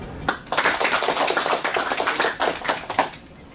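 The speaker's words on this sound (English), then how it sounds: "let's give a warm applause to Guobin" A small lecture audience gives a round of applause for a speaker, individual claps distinct and crisp, swelling and fading in uneven bursts for a few seconds, close and without talk.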